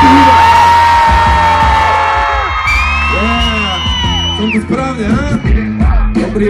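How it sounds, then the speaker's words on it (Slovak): A concert crowd at a rap show in Šaľa cheers, whoops and yells, a long loud roar that breaks into scattered shouts and claps near the end. "ukážte mi teraz potleskom a krikom, jak má celý slovenský hudok"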